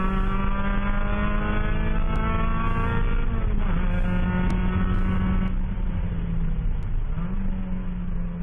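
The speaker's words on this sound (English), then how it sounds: "if you hear the engine revs go down as he brakes" A ChampCar endurance race car at VIR holds a loud, steady engine drone that drops in pitch twice as the driver lifts and brakes, then climbs again, heard from onboard with no talking.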